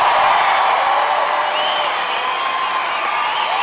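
Studio audience in a show voting by applause, a dense steady wash of clapping with scattered cheers and whistles, loud and continuous for a few seconds.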